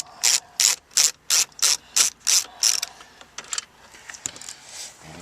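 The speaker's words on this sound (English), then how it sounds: "we're going to remove one screw to the left of the ashtray assembly" A ratchet clicks in eight quick, evenly spaced bursts while a screw is backed out beside the ashtray assembly of a Nissan Maxima, followed by fainter fiddling and a light knock.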